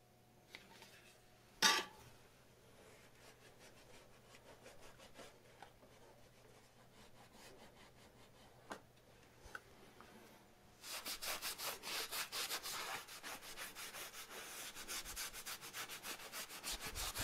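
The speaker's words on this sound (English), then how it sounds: "cleaned the flange surfaces with some alcohol" Surfaces of a broken PVC toilet flange wiped clean with alcohol: close, steady rubbing and scrubbing strokes, quieter at first with one sharp knock, then louder, continuous scrubbing through the second half.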